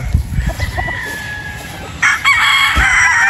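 A Boston Roundhead rooster crowing close and loud, a long sustained crow rising partway through, mixed with clucks and other fowl noises from a farmyard, with no talk.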